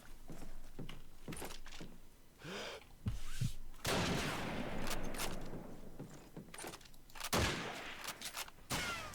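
Gunfire rings out in a multiplayer shooter match on a map with an Orphanage area, with sharp bursts and single pops between quieter moments, mid-distance, under faint background sound.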